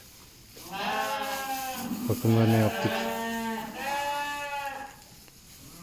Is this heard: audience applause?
no